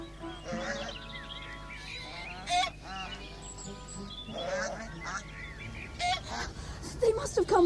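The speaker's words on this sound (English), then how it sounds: "What are the geese doing on the lawn?" Geese honk in short bursts on a lawn, a few calls standing out clearly while people talk over and around them throughout.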